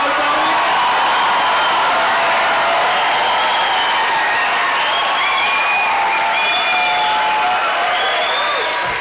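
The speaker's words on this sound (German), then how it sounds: "können wir mal einen motivierenden Applaus haben für unsere Jungmannschaft" Audience applause with cheering and whoops fills a benefit concert hall, a loud sustained crowd wash of clapping and shouts throughout.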